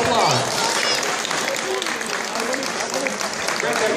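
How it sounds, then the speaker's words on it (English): Loud crowd applause breaks out at a charity auction at Wigan Comic Con, close, dense clapping with voices and cheers mixed in throughout the four seconds. "Give a big round of applause."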